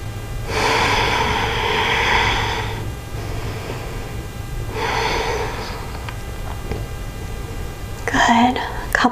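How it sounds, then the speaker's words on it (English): Slow, deep breaths during a yoga pose for hernia relief, two long airy exhalations close to the mic with quiet pauses between, followed by a brief spoken voice near the end. "just breathing nice and deep"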